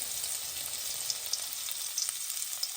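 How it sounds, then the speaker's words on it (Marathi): Finely ground garlic paste fries with cumin seeds in a spoonful of oil, a quiet, steady, close sizzle with occasional tiny crackles and pops. "त्यात एक चमचा तेलामध्ये थोडं परतून घेऊ"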